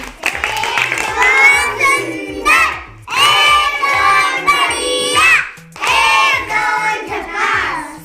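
A group of children applauding and cheering together for a classmate after a tricky puzzle game, with three loud bursts of clapping and shouting separated by brief pauses.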